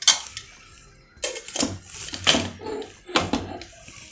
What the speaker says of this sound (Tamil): ஒரு தட்டு போட்டு மூடி